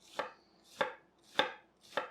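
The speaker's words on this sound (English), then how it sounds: "once you're done cutting all these onions" Knife chopping onions for an onion dip, four distinct, evenly spaced cuts about every 0.6 seconds, close and crisp with no talk.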